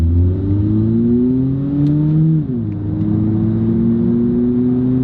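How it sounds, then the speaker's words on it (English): A car engine revs under acceleration while the automatic transmission is shifted manually, rising steadily in pitch, dipping briefly at a gear change near the middle, then climbing again, loud and close with no talk. "When I put it in the manual and I'm manually shifting the gears,"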